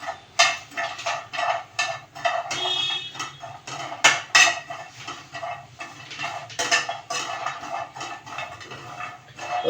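Walnuts rattle and scrape in a hot pan while being roasted for nut ladoos. The sound is a busy, continuous clatter of nuts and utensil against metal, close and fairly loud, with no talking.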